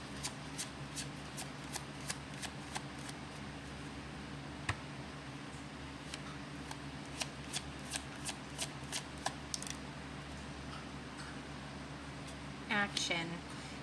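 A Bicycle deck of playing cards is shuffled up close, a series of crisp riffling flutters and clicks over a low, steady hum, ending with a denser burst of card noise.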